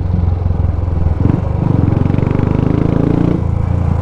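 Modified Royal Enfield Classic 350 motorcycle idling close by, a loud, steady thumping exhaust pulse with a brief throttle blip around the middle.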